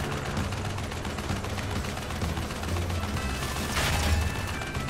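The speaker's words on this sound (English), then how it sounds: "Wait, machine gun." Rapid mechanical machine gun fire from Crash Bandicoot Warped, a dense rattling stream of shots running throughout at steady volume, with a brief brighter burst near the end and no talking.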